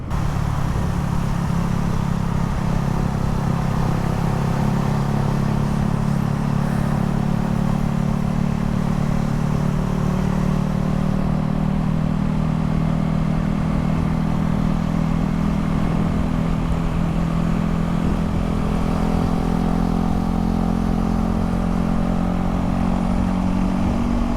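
Motorcycle engine on a group ride, a steady loud rumble held throughout with wind noise and no talking.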